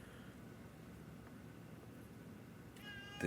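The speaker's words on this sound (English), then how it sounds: "That's my cat in the background." A pet cat meows in the background during a Pokémon Black 2 game stream, a brief faint cry near the end over steady low room noise.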